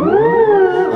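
A Moog Theremini theremin on preset 6, ribbons, sings one smooth gliding tone with a slight pitch swell, loud and close, for about a second with no other sound.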